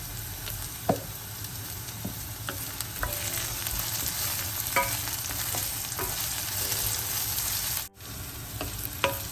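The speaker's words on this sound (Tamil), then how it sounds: "என்ன கொஞ்சம் மெந்தயம் சேர்ப்போம் இது வதங்குறது" Fenugreek seeds and onions sauté with a little salt in a pan for a soya chunk and brinjal curry, giving a steady close sizzle broken by occasional scraping stirs and clicks, with no talking.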